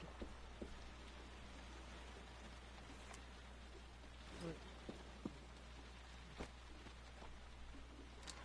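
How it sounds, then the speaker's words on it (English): Faint, steady rain hisses in the background, with a few soft drops and taps standing out now and then. "The rain's in the background."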